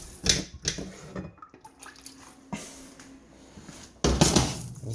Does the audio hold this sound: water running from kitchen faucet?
yes